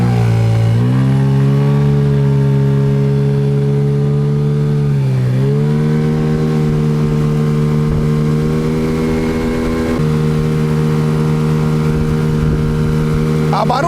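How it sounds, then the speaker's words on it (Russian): An outboard boat motor starts and runs steadily, a loud buzzing drone whose pitch dips briefly and then holds even, close by and continuous. "Заводим мотор."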